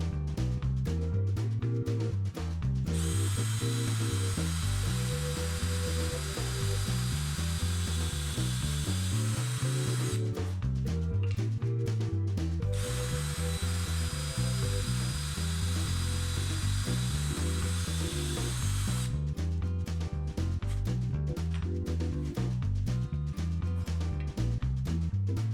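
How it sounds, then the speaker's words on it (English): A power drill whirs in bursts, its motor pitch rising and falling rhythmically as it drills and countersinks a wooden fence, with brief pauses between runs. "I'm drilling and countersinking the fence on both sides"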